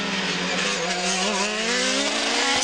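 Formula 3000 race cars at the 2002 Austrian round scream past, a loud high-pitched engine whine with rising and falling harmonic sweeps as two closely matched cars accelerate toward a corner, heard near and continuous.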